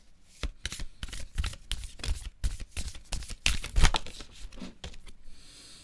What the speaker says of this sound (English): no, I'm going to shuffle for them this time.